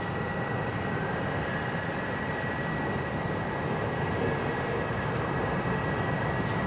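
Airbus A321neo jet at Phoenix airport, its engines giving a continuous, even roar with a faint steady whine on top, distant but filling the whole stretch with no talking.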